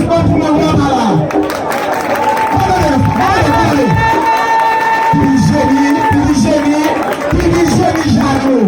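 An audience at a Haitian Vodou gathering cheers and claps loudly, a dense continuous roar of shouting voices and applause close by, with a drum-like thumping beneath.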